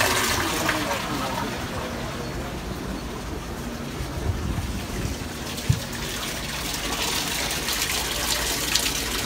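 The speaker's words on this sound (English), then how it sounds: "About 215 gallons running on one live well pump." Water from a single electric live well pump gushes steadily into the half deck well of a 30-foot Conch boat, making an even, moderate rushing flow with faint background voices.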